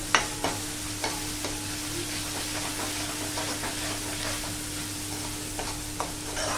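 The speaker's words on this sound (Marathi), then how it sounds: "आलं लसूणाची पेस्ट मस्तपैकी परतून घ्यायचं" Ginger garlic paste fries in a hot pan for dal fry, a constant close hiss and sizzle punctuated by a few sharp spoon taps against the pan.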